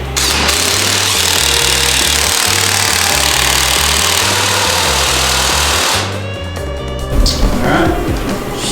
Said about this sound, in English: So this here is our bed knife grinder.